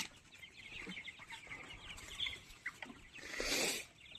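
Young 28-day-old tiger chickens cluck in a farm shed, with soft, irregular calls near and far and a louder burst of clucking toward the end.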